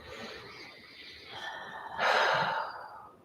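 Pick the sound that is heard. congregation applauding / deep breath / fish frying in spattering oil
deep breath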